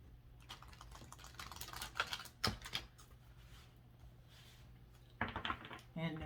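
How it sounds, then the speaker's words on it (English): Someone shuffles a deck of tarot cards in a reading, giving bursts of crisp riffling and sliding card noise that come in clusters with pauses between, close to the microphone and quiet, under a soft background hum. "we got one more shuffle here"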